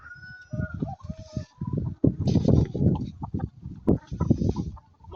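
Heritage chickens cluck and squawk busily at feeding time on a farm, a steady chorus of close, overlapping clucks with occasional sharper calls.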